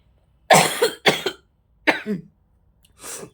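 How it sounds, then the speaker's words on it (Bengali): Four sharp, close coughs in quick succession, the first three bunched together and a softer fourth after a short pause. "কাশি হচ্ছে"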